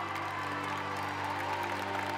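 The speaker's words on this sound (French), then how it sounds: "Tous sont debout sur scène, ils applaudissent avec le public." An audience applauds a stage performance at the end of an inclusive Erasmus+ arts show. The clapping is a steady, dense wash of many hands that holds at an even level throughout.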